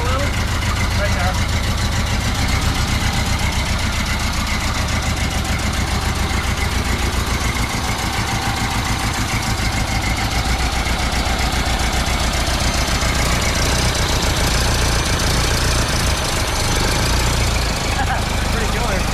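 A 1928 Ford Model A pickup engine runs at a loud, rough idle with a steady knocking chug, while people talk over it.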